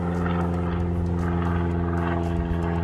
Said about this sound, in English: And planes directly above us. That's a, what do you call it? A single prop?